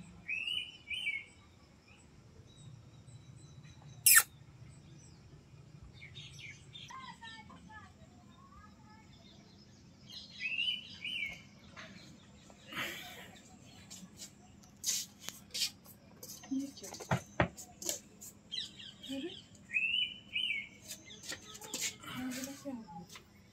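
House sparrow chirping while building its nest, short bright calls coming in scattered bursts at moderate distance over steady low background hum, with occasional sharp knocks and rustles.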